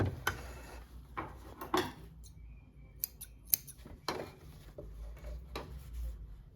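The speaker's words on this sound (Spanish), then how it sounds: "Cortamos los hilos por aquí." Scissors snip through loose threads on a trouser hem, giving a series of sharp, close, irregular clicks with small rustles between them, with no talking.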